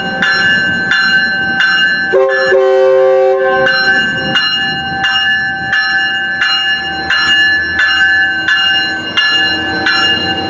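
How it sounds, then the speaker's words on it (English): An Amtrak train, AMTK 174 with a Phase VII unit, rolls past at Moorpark with its bell ringing in a steady, loud, repeating clang over continuous rail and engine rumble, with a brief horn-like tone near the start. "this will be our last train of the day"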